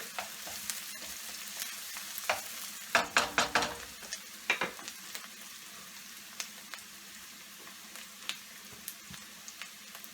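Onion sautés in a pan with a soft continuous sizzle, broken by a burst of stirring scrapes and clinks early on and scattered utensil taps after, close and quiet with no talk.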